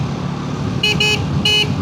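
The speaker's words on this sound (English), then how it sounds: "Look at that, it sounds like a scooter horn." Three short, thin honks from the horn of a Triumph Tracker 400 motorcycle, sounding high and weak over a steady engine rumble while riding.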